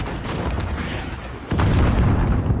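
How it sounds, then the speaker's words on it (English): Allied cruise missile launching in a multiplayer shooter game, a deep rumbling boom that swells into a louder, sustained blast partway through, with a steady background roar. "Allied cruise missile away"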